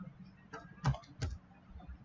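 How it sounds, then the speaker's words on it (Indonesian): A few keys are pressed on a computer keyboard in a quiet room, including the enter key: three or four distinct soft clicks spaced apart over about two seconds. "Kita tekan tombol enter."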